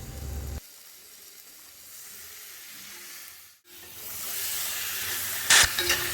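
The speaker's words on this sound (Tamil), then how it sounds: "மசாலா கூட நல்லா கிளறி விடணும்." Chicken stirred into masala in a pan for roadside-style chicken salna sizzles and hisses steadily, with a brief sharp scrape partway through and a louder rush of frying toward the end, no voices.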